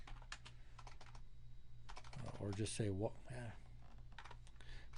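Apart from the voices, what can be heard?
typing on a computer keyboard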